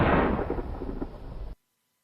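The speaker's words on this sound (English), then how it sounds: "Yes, it was an explosion." An animated explosion erupts in a loud, dense burst of low rumble that decays over about a second and a half before cutting off abruptly to silence.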